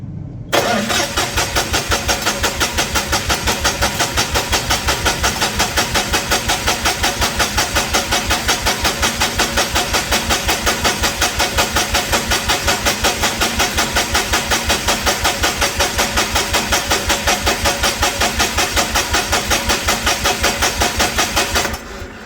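The engine of a Lincoln SA250 welder starts up and settles into a loud, steady, rapid chugging run that continues evenly for over twenty seconds, heard up close.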